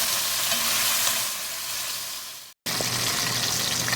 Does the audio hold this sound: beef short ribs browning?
yes